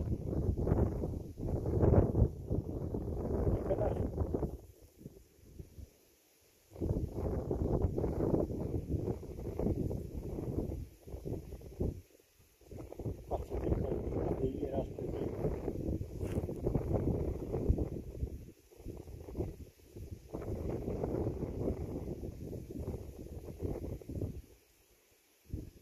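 Wind blows outdoors in gusty, roaring stretches that rise and drop off in short lulls, loud against the microphone.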